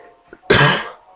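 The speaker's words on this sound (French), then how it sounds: "pardon parce que j'ai toussé" A single loud, close cough bursts out after a short pause, preceded by a faint breath.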